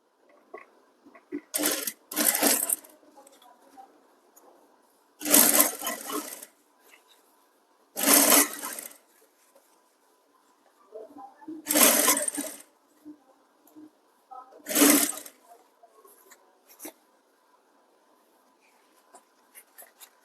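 A sewing machine stitches thread piping onto a designer blouse in several short, loud bursts with quiet gaps between them, close by, with a faint steady hum underneath.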